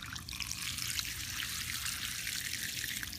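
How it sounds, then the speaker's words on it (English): Water from a garden hose sprays through a Sunterra goldfish pond filter, a steady, faint hiss and trickle running continuously with no talk. "I'm going to take my garden hose, and I'm just going to shoot water."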